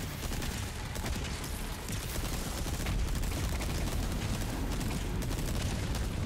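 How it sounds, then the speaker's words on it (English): Dense, continuous gunfire and explosions in Resident Evil 4 Remake, Separate Ways DLC, a loud unbroken barrage of shots and booms with no clear single sniper rifle crack standing out. "it's gonna be hard to shoot it with that sniper rifle thing"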